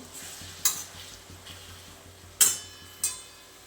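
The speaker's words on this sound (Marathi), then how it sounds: "आता हे मिक्स करून घ्यायचं आपल्याला आणि कमी गॅसवरती ठेवायचे आपल्याला" Dill greens with peanuts being stirred in a pan over a low flame, a soft sizzle running underneath three sharp scraping clinks of the spoon against the pan.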